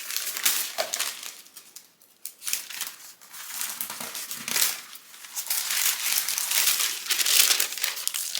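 Paper is handled and pressed onto wet acrylic paint, producing close, crisp crinkling and rustling in repeated bursts with short quieter gaps.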